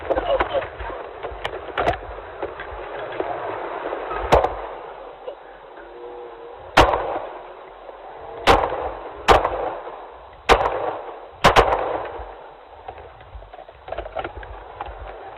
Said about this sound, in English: 6 shot fired.